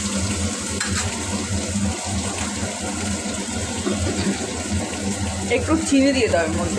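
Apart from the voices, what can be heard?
chopped onions frying in a pan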